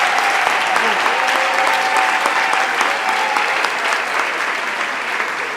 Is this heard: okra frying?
no